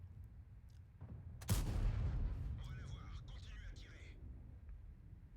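A single tank cannon shot in a video game, a sharp loud boom that trails into a rumbling decay, followed by faint high-pitched game effects.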